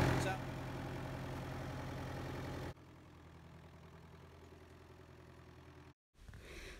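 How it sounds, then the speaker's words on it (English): A tractor engine runs steadily, working soil inside a glass house, a low continuous drone that is louder at first and then drops to a quieter hum for the rest. "It's not easy working with the tractor here in the glass house, but Chris is doing a good job"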